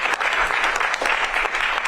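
Dense, continuous crowd applause at an Oval Office executive order signing, steady and full throughout with individual claps poking through.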